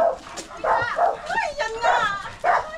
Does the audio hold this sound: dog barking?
yes